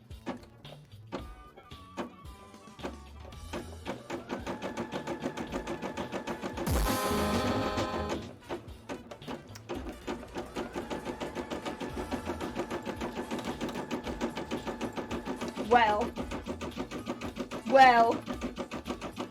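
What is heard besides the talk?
sewing machine sewing a bra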